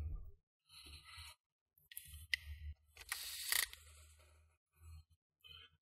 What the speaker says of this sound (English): Now we're gonna put all the screws that we removed.